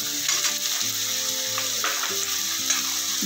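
Green peas tipped into vermicelli upma frying in a pan, giving a steady close sizzle with faint stirring scrapes, no voices over it.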